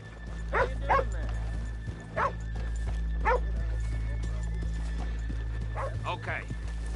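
Horses in Red Dead Redemption 2, stopped just off a town's main street, give several short whinnies and snorts in spaced bursts over a steady low hum.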